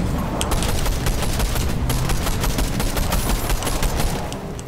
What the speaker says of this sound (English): let's go shoot him again